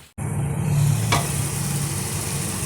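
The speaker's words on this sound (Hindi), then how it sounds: "अब दूसरी साइड से हल्के से फ्राई करेंगे" Seekh kababs sizzle steadily in a pan while frying on their second side, a loud, continuous close hiss that starts abruptly and holds throughout.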